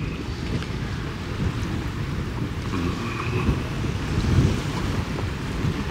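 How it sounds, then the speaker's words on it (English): Steady, blustery wind roars across a microphone on a sailboat on the water, with a low rumbling gusty noise building and easing over several seconds. "Yep, it's definitely windy today."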